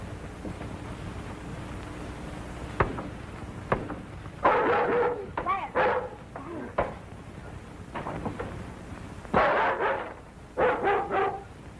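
A dog barks in several short, loud bursts of two or three, close by in an indoor space, with a thump and quieter noises in the gaps between them.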